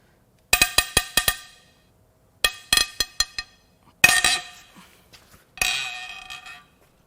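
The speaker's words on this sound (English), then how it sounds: "Now it's time to crack these head bolts loose." A wrench cracks loose M12 triple-square head bolts on a Toyota Tundra 5.7L 3UR-FE V8 engine, giving sharp metallic clinks and clanks in quick clusters of four or five, then a couple of longer ringing rattles, close and with no talk.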